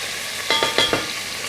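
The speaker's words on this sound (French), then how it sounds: "Je vais mettre, en plus de mon petit nerf, dans mon huile bien chaude," Strips of Belgian Blue beef sizzle in hot oil while being stirred. The steady frying hiss is broken by four quick, close scraping pulses, and no one speaks.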